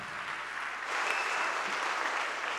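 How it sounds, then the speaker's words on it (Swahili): A church congregation breaks into a brief burst of applause, dense and steady clapping from many hands at moderate distance. "Makofi machache hapo."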